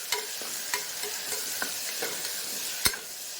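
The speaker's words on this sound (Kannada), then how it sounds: "ಟೊಮೆಟೊ ಚೆನ್ನಾಗಿ ಫ್ರೈ ಆಗಲಿ ಫ್ರೆಂಡ್ಸ್." Tomatoes frying in a pan for tomato bath, a steady bright sizzle broken by sharp clicks and scrapes of a spoon stirring, close and fairly quiet.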